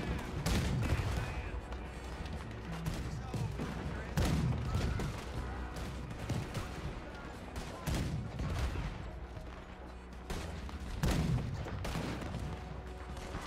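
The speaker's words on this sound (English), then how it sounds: "Firing cannonballs!" Cannons fire repeatedly in Red Dead Redemption 2 Online, a dense barrage of deep booms at irregular intervals layered over continuous battle rumble, with no voices heard.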